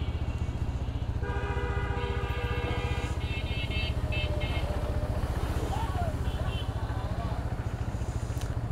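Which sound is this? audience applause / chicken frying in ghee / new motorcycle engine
new motorcycle engine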